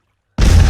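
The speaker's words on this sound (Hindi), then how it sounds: "अरे उधर देखो, कितना बड़ा धमाका।" A big explosion in an animated 3D cartoon bursts in after a moment of silence, a loud, dense boom with a sustained rumbling roar that stays strong to the end.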